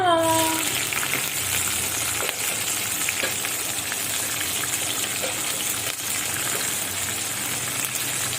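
Green chillies drop into hot oil with dal already fried reddish for an onion-free rava upma, giving a steady crackling sizzle that holds close and even after a brief louder burst at the start.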